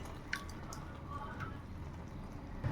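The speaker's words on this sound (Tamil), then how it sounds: "பருப்பு சேர்த்துட்டு நல்லா கிண்டி விட்டுடலாம்." Dal is added to simmering nellikai sambar, a tangy gooseberry lentil stew, and stirred in, making soft wet squishes and faint drips at close range.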